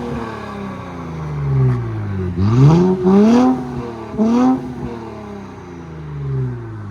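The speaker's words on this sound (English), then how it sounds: "You can hear the turbo whistle." A 2023 Nissan Z engine with straight-pipe exhaust revs up and down several times nearby, rising and falling pitch with a whooshing turbo whistle on each rev.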